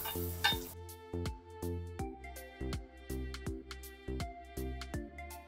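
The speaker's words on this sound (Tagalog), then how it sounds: "Magigisa na tayo ng bawang. Syempre, pag medyo mapula na ang bawang, lalagay na tayo ng sibuyas." Garlic, then onion, sautéing in a pan for beef chow fan: a sizzle with repeated stirring scrapes and clinks of a utensil against the pan at a steady rhythm, close by, with no talking.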